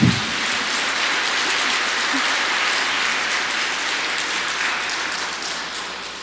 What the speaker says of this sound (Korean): 우리 수녀님께 큰 박수 한번 해드리시기 바랍니다